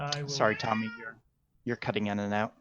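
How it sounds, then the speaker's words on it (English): A pet cat meows loudly and repeatedly close to the microphone, its cries overlapping someone talking in two bursts separated by a short silence. "My cat is meowing."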